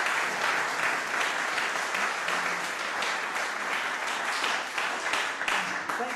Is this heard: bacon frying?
no